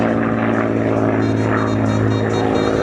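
A P-51 Mustang at the 2013 TICO event runs its propeller engine in a loud, continuous droning roar with a steady throbbing hum, close and with no speech.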